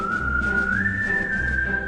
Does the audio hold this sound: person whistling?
yes